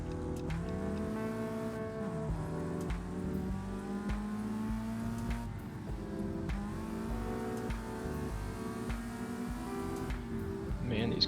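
A race car engine in the racing game Project Cars 2 holds high RPM in a continuous loud whine, with gear shifts dipping and climbing the pitch throughout a lap.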